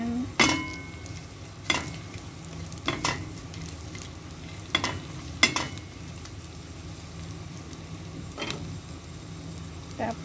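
Sliced garlic sizzling in a frying pan for spaghetti, a continuous low fry under repeated sharp utensil clicks and scrapes as it is stirred, close by.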